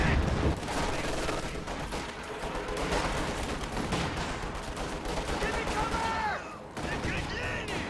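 Two M36 Jackson tank destroyers fire in Company of Heroes 2, heavy cannon shots layered into a dense battle din of gunfire and explosions, with a commentator talking over it.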